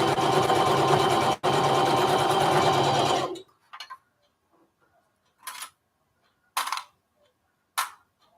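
A sewing machine stitching a lunch tote runs in a steady close whir for about three seconds with one brief break, then stops, followed by several short scattered handling noises.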